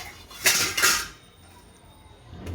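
A lid clatters onto a cooking pot of dudhi dhokla batter in a home kitchen, two quick metallic clanks close by, then quiet.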